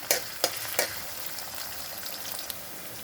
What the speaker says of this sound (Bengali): দিয়ে একটু ভেজে নেবো রসুনটাকে